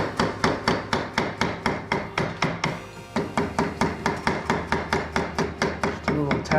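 A hammer taps repeatedly to free the pulley on a 1973 Harley Shovelhead chopper, roughly three sharp metallic strikes per second in a steady, close rhythm with a brief pause midway.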